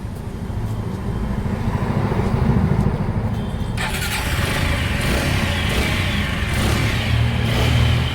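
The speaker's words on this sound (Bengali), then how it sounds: "লাগিয়ে না তো দেখো এবার আমরা আরেকবার স্টার্ট করবো ব্যাটারিটা লাগিয়ে।" A TVS Apache 4V motorcycle engine, which has a starting problem and a battery that drains, cranks and then catches, settling into a loud, close, steady running rumble.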